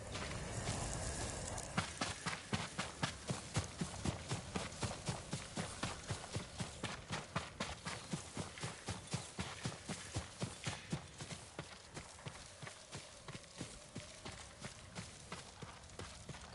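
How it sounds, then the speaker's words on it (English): Horse hooves clip-clop in a steady, rapid rhythm across the ground in the Ghost of Tsushima video game, the regular beats running for many seconds close by and gradually softening. "Yuriko's horse."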